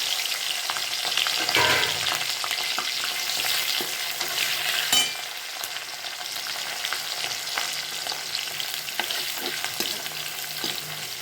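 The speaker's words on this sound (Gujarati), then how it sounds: "શાક વઘારવા માટે સૌ પહેલાં આપણે આ મરચાં છે ને તળી અને અલગ કાઢી લઈશું" Loud, continuous sizzling of green chillies frying in hot oil, with occasional stirring scrapes and crackles throughout.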